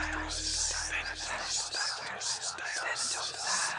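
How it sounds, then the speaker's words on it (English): A choir whispers two Greek words, thanatos and dialusis, for the Age of Mythology soundtrack: breathy, hissing layered whispers in a steady, overlapping wash lasting several seconds, close and soft with no pitched singing. "One of the effects I wanted to try with the choir was have them whisper two Greek words"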